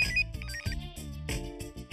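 Melodic phone ringtone signalling an incoming call, playing alone and fairly loud with a repeating musical pattern throughout, amid a TV drama scene.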